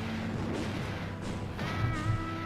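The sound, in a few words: artillery explosions in a strategy video game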